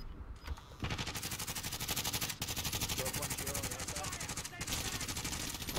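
Rapid automatic gunfire from Call of Duty Warzone bursts steadily and loudly through the whole stretch, with short gaps between volleys and a voice talking underneath.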